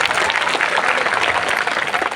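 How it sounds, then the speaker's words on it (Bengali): An audience at a school gathering claps together, a dense, sustained burst of applause heard close and at a steady level throughout. "এই জন্য একটা হাততালি"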